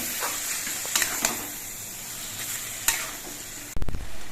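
Banana flower stirred and fried in a pan, a steady broadband sizzle with a few scraping spatula strokes, then a louder clattering burst of stirring near the end; no voices.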